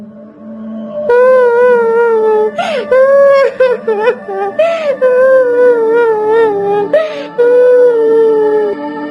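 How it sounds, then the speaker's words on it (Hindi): Loud, drawn-out wailing cry rising and falling close by in a cartoon, with sobbing breaks between long moaning notes, no other sounds. "यह रोने की आवाज कहाँ से आ रही है?"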